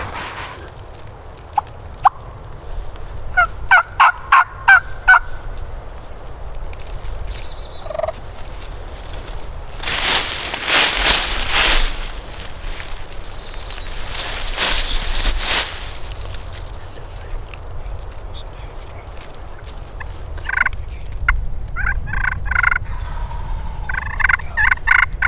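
Wild turkeys gobbling during an Alabama spring hunt, several loud rattling gobbles in bursts near the start and again near the end, with quiet woods and a few wind gusts between.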